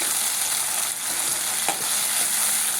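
Shallots and curry leaves sautéing in a pan, a steady hiss of frying with a few soft spatula stirs and clicks, close and even, with no voices.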